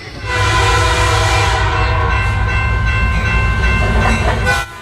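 A train moves through Kollam railway station at night, its loud rumble and wheel clatter filling the scene with a long horn blast, close and continuous until it cuts off near the end.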